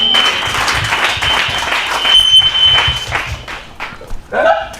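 A church congregation at a Swahili evangelistic service claps for Jesus in sustained, dense applause that thins toward the end, with a brief vocal sound near the close.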